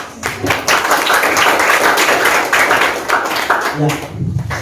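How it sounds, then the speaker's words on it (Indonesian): Applause for the teachers at a school gathering: a dense, sustained crowd clapping that carries steadily for several seconds, fairly loud, with some voices mixed in. "Saya selalu memberikan aplaus untuk guru kita."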